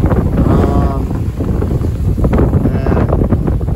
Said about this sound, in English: The wind is getting on the strong side, maybe not ideal for learning to sail.